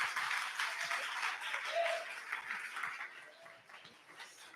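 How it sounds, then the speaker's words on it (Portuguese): A church congregation at a couples' service claps and cheers, dense at first and gradually thinning and fading, with a brief voice or tone surfacing in the middle. "Pode aplaudir Jesus."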